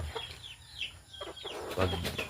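Gamecocks kept for cockfighting cluck in short, irregular calls nearby over a low background hum.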